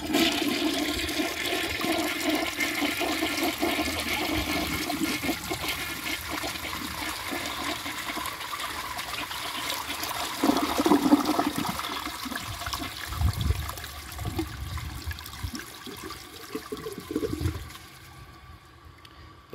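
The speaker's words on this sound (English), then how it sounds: "So let's give this a flush and see how it does." A 1965 Nationaline toilet flushes, a loud rushing gush of water that swirls and gurgles, then trails off into trickling and refilling before falling quiet at the end.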